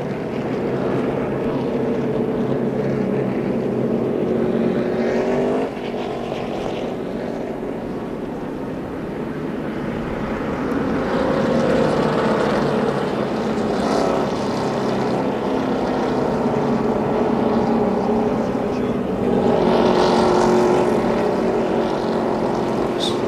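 NASCAR Busch Series race cars circling Michigan's track under caution at the 2006 Carfax 250, a steady droning engine rumble with slow swells as cars pass, continuous and moderately loud, with faint talk over it.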